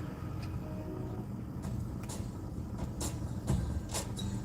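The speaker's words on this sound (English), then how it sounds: "That's a lot of cars." A steady low rumble of road traffic with heavy vehicles droning, and occasional clicks and ticks over the continuous engine noise.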